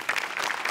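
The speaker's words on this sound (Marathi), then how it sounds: "आज विशेष करून सेटिंग आणि म्युझिक डिपार्टमेंटसाठी टाळ्या वाजवल्या पाहिजेत" Audience applause for a stage performance's sets and music, a brief burst of scattered clapping heard at moderate distance, with no voices over it.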